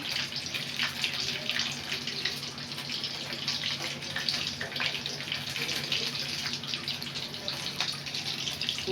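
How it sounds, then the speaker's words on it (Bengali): Tap water runs steadily while radish is washed by hand in a home kitchen, a continuous splashing gush with small irregular bursts as the vegetable is rubbed under the stream, close and moderately loud. "মূলাটা আমি যেভাবে কেচে নিচ্ছি"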